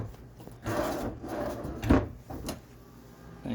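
Wooden kitchen drawers in a 2016 Dutchmen Aerolite travel trailer slide open and shut a few times, with soft rubbing scrapes and a sharper knock near the middle, close by and fairly quiet.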